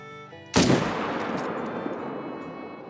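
A rifle shot at an elk in a hunting video game cracks as a single sharp, loud report, followed by a long, fading rumbling echo.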